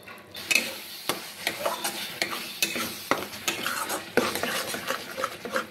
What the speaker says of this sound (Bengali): এবার এর মধ্যে দিয়ে দিব আমি পেস্ট করে রাখা বাদাম আর কাঁচা লঙ্কা।